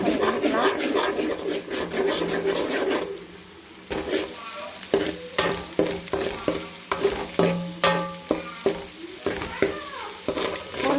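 Beaten eggs fry in a pan for egg fried rice while a utensil stirs and scrapes through them. A steady sizzle runs under rhythmic scraping strokes, which grow sharper and more regular toward the end.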